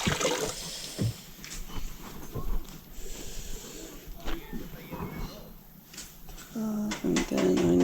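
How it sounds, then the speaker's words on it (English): Laundry being soaked with water by hand, with splashing and sloshing liquid sounds close by, intermittent and uneven, a voice talking over parts of it. "So I'm gonna take the laundry, get it nice and wet."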